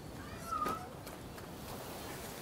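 Cat meowing in the video game Rise of the Ronin: one faint, short meow early on against quiet game ambience, followed by soft background noise.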